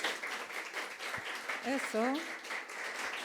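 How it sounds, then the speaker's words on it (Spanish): Audience applause at a talk on digital challenges, a soft, scattered clapping of many hands while a voice speaks briefly over it. "Un aplauso."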